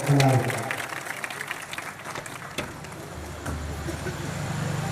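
Audience at an outdoor religious Purana gathering in Yadrami bursts into brief applause at the start, which quickly fades into crowd murmur and passing road traffic, with talking heard over it.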